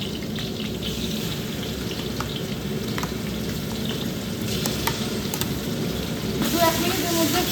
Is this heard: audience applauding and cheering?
no